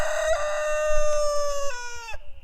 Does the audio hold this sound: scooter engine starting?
no